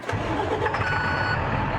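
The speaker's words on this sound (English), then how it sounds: "And there we are starting the truck now." A snowplow truck, fitted with salt and liquid spreader controls, cranks and starts up close by, with a steady engine rumble and a faint high tone above it throughout.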